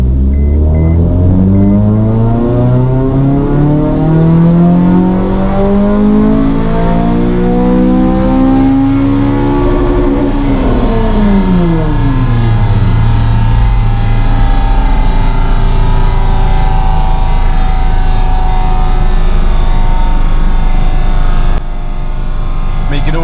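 A Honda Civic FN2 Type R engine on a dyno during a live tune and remap, loud and close, climbing steadily in a long sustained rev, then dropping back and rising again through the run.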